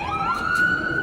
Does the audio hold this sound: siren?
yes